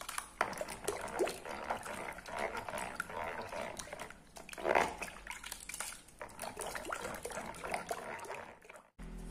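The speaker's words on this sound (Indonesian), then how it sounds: "Santan kita masukkan semua ya teman-teman." Coconut milk poured into a glutinous rice flour batter for bubur sumsum, a continuous liquid trickle and splash running for several seconds over faint background noise.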